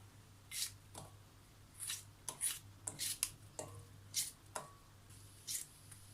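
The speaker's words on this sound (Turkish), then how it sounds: "Ben bu şekilde jülyen bir şekilde doğruyorum." A knife slices fresh green beans into julienne strips, making a series of soft, irregular crisp cuts and squishy slicing strokes close by, with short pauses between them, against a faint background hum and no talking.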